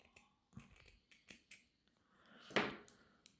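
Scissors cut leftover crochet yarn threads while a 3D oval rug is crocheted, giving a few light clicks and then one louder, crisp snip close by, with no talking.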